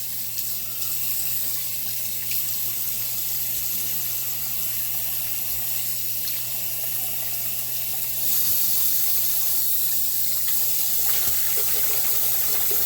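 Lukewarm water runs steadily from a sink tap into the basin at a constant hiss for the whole stretch, growing slightly brighter partway through, with no voices.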